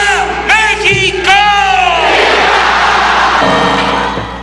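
A large crowd at the Mexican Independence Day celebration in Mexico City roars a chanted "Viva México" cry, loud, near and sustained, with voices swelling into a continuous wall of shouting.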